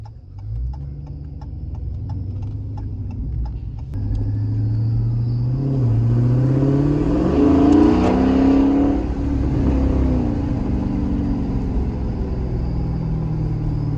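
A Dodge Scat Pack fitted with a JLT cold air intake idles with a deep rumble, then revs up and falls back in a swelling roar before settling to a throaty idle.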